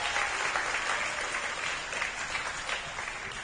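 Steady applause from an audience at a primary school sports awards night, continuous and moderately distant clapping without talk.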